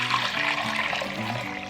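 Strained homemade broth poured from one container into another, a steady liquid splash and trickle running continuously and fairly close.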